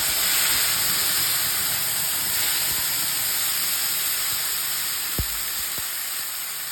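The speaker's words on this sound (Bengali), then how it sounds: "তো আমি এখন ফোড়নটা দিয়ে নিচ্ছি।" Whole spices hit hot oil to make the tempering for khichuri, a loud, steady sizzling hiss that fills the clip up close, with a few faint clinks under it.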